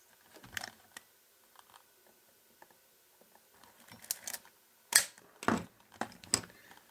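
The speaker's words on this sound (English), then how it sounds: "Let's cock the shutter again." A Konica C35 AF compact film camera with a faulty autofocus is handled, with quiet scattered clicks and a few sharp mechanical snaps of the shutter being cocked, close up in a quiet room.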